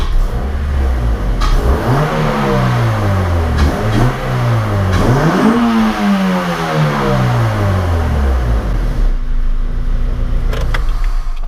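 Close, loud revving of a car engine fitted with a cold air intake: several rising and falling pulls with a deep whooshing intake roar, then settling back to idle.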